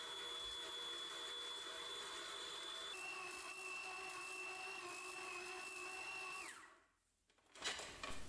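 A dough kneading machine with a dough hook works a butter dough, a steady whirring motor hum with a high whine that shifts pitch partway through, then winds down and stops, followed by a brief clatter.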